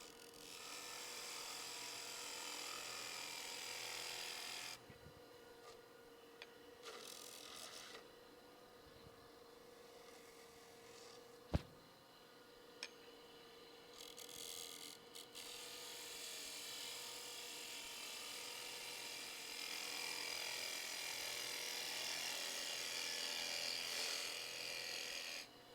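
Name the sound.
turning tool cutting wood vessel on lathe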